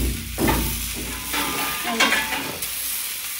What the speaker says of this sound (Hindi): देखिए हम तावा में देख के पकाएंगे दोस्तों, अच्छा से सीछेगा हमारा तावा पे